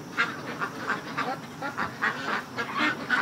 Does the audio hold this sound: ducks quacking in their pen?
yes